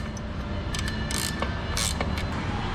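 A ratchet snugging up the bolts on a vehicle's Super Shox shock mount, a few quick bursts of clicking over a constant mechanical hum, close by with no talk.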